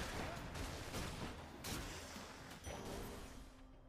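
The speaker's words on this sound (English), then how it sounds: "So many bombs everywhere." Bombs going off in the video game Hades, with a dense, continuous barrage of overlapping blasts and crackling impacts at moderate volume and no clear gap between them.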